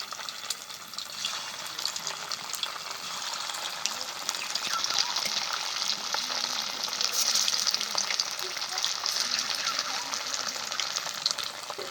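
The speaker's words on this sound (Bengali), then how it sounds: "এবার বাকিগুলোও ভেজে নেব।" Fish kofta balls fry in hot oil, a continuous crackling hiss with bubbling and occasional faint stirring noises, steady throughout.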